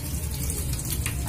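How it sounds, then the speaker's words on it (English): Running tap water splashes over hands being rinsed at a sink, a steady broadband rush that holds close and loud through the whole moment with no talking. "Rinse it well."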